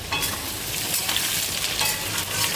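Chopped onion frying in hot oil with cinnamon, cardamom and cloves, a steady close sizzle with occasional stirring scrapes, continuous and fairly loud with no talk.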